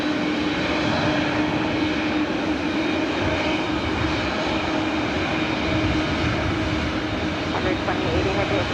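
Boeing 777-300ER jet on flight 604 bound for Amsterdam at LAX, a steady, loud engine whine and roar heard nearby, with a faint voice under it.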